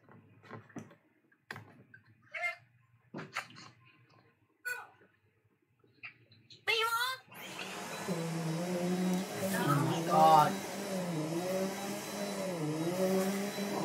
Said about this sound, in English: All you hear is the vacuum.